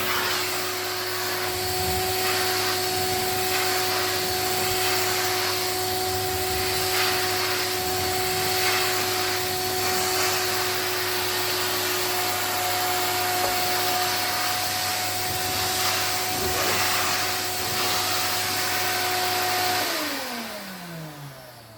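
An Electrolux cylinder vacuum cleaner in spearmint green, a Z1165 or Z2030 model, drones loudly and steadily with a fixed motor whine, then powers down near the end as the pitch falls away.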